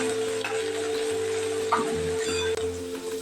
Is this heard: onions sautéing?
yes